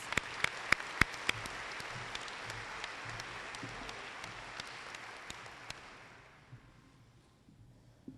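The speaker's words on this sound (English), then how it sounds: "Let's give all of these recipients a round of applause." An audience at a nursing pinning ceremony gives award recipients a round of applause, moderately loud steady clapping with a few crisp nearby claps standing out, fading away over the last couple of seconds.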